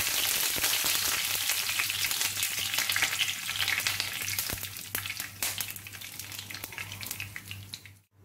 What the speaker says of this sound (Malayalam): ഇനി കറിവേപ്പില ചേർക്കാൻ പോവുകയാണ്